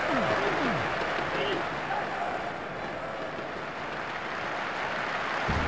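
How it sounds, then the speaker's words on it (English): Crowd applause and cheering in the rugby video game Jonah Lomu Rugby, a broad steady roar of a stadium crowd swelling and easing slightly across the clip. "Oh, the crowd liked that pass."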